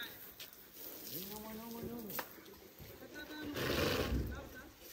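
A horse whinnies in a rising and falling neigh, moderately close, amid outdoor background noise and people talking nearby.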